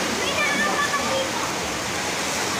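Canding Falls in San Clemente, Tarlac, a steady broadband roar of falling water filling the scene, loud and continuous without a break.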